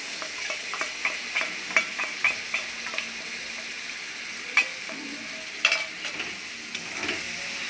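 A ready-made spice paste fries in hot oil for a Bengali stingray curry, sizzling steadily at a moderate level while a spatula stirs it with scattered close scrapes and taps, and no one speaks.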